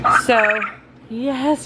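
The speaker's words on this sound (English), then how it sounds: "That's a rooster crow." A rooster crows twice among a homestead flock that has several young males, red-breasted and white-breasted, each call a loud, near, drawn-out wavering cry separated by a short pause, with a brief voice at the start.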